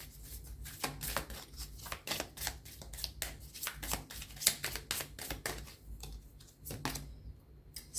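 Oracle cards are shuffled close by in a rapid, continuous run of crisp riffling flicks and slaps, steady and unbroken with a faint low hum underneath.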